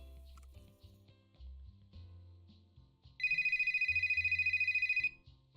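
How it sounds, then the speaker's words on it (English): A video game telephone rings in an abandoned IKEA-like store, a bright electronic trill pulsing rapidly for about two seconds, loud and steady over quiet low game ambience with faint muffled sounds beforehand. "Oh, this phone's ringing."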